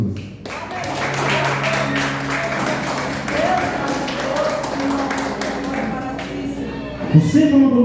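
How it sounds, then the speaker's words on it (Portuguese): A church congregation applauds with steady, dense clapping that carries on for several seconds while a voice speaks over it. "Vamos aplaudir Jesus."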